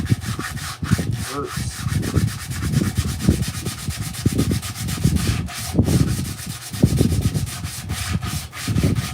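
Hand sanding of a carved wooden mushroom, a steady back-and-forth rasp of abrasive on wood in repeated strokes, close and continuous, with a brief spoken word partway through.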